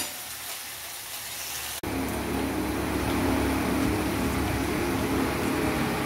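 Pieces of arbi (taro root) fry crisply in hot oil in a South Indian home kitchen. A steady, dense sizzle jumps louder after a brief cut and continues evenly with no voices.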